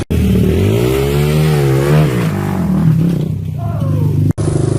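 A Honda XR200R dirt bike engine revs hard and close, its pitch rising and falling in a continuous blare, then cutting out for an instant before roaring again.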